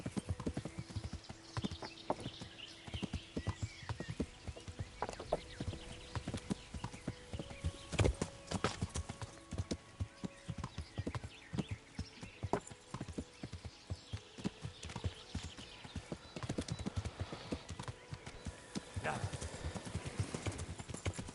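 Horse hooves clip-clop steadily in Kingdom Come Deliverance on PS5, a brisk rhythmic trot that continues throughout, with someone talking intermittently over it and game ambience in the background.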